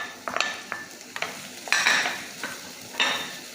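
Garlic, ginger, green chilies and curry leaves go into a hot pan, each handful setting off a burst of sizzling, with spoon clinks and stirring scrapes between, close and free of talk.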